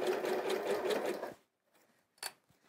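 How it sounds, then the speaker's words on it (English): A sewing machine runs steadily for over a second as it stitches across fabric binding, then cuts out, followed by a couple of faint clicks and handling noises. "Just continue to bring your fabric to you and sew across that binding, keeping this nice and tight at this stage."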